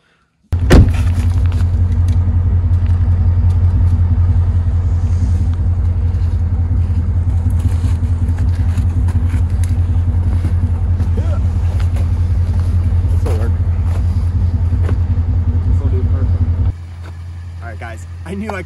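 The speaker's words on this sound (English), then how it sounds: "let's get these winters all warmed up on this here snow" A car with winter tires doing a burnout on snow, a loud steady engine roar at high revs held for about sixteen seconds before dropping to a lower idle, with people talking faintly underneath.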